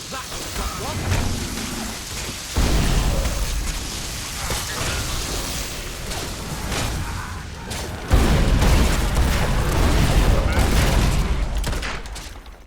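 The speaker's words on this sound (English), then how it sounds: "We can't hurt it while it explodes like that." Explosions boom in a Fable II game fight, heavy rumbling blasts that swell suddenly twice and roll on under a constant crackling, rain-like wash.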